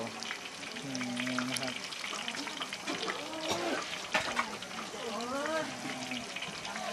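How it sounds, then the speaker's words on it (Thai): Thai-style beaten-egg omelette frying in a pan, its first side already golden after flipping, gives a steady crackling sizzle throughout while someone talks over it. "เราก็จะทอดทิ้งไว้อีกสักพักนะครับ ให้ไข่อีกด้านหนึ่งสุก"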